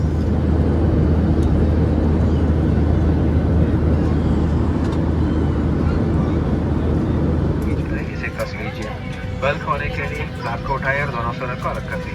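Steady, loud airliner cabin roar right after boarding a flight from Kannur to Dubai, a constant broadband drone that eases slightly near the end as a voice begins speaking over it.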